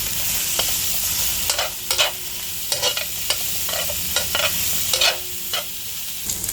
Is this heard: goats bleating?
no